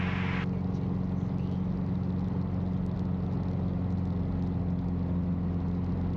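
Light aircraft engine of the Backcountry Bogey running near full throttle at about 2650 RPM during its maiden flight climb, a steady loud drone with strong low harmonics filling the whole stretch, no talk.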